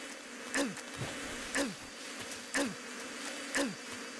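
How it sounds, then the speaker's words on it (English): Angry bees pour out of a shot beehive in the stealth game Metal Gear Solid 3, a steady insect drone with swelling buzzy passes about once per second, close and loud. "Ooh, beehive. Let's shoot that. Oh, they're not happy with me."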